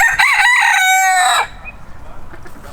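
A mottled rooster lets out one loud, close crow lasting over a second, then the yard falls to faint low background noise.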